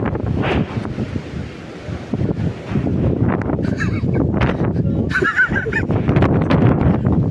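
Strong gusty wind at Kodanad viewpoint buffets the microphone in a constant heavy roar, with brief higher whistling or voice-like sounds faintly mixed in.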